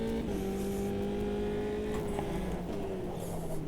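A race car engine in the racing game Automobilista 2 drones at a steady, fairly quiet pitch that drifts slowly down, with no one speaking over it.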